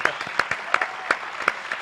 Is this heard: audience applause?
yes